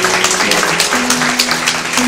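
A church congregation applauds in a steady, loud wash of clapping, with a sustained musical tone underneath.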